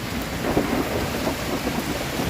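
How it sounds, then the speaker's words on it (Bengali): A thunderstorm with lightning: rolling thunder rumbles over a dense, steady wash of heavy rain, loud and close. "বৃষ্টি হলে হোক কিন্তু এই যে বিদ্যুৎ চমকানো আর এই যে ঝড় বাতাস এটাই হচ্ছে সবথেকে ক্ষতিকারক"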